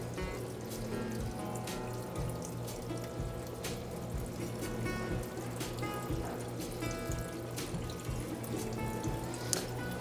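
Water drains steadily from a horse spa filter into a bucket, a continuous soft splashing trickle at low level that does not change throughout.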